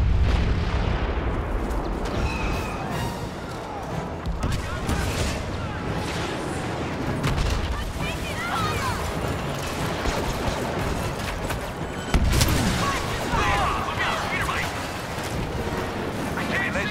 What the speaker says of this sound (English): Rebel airstrike incoming.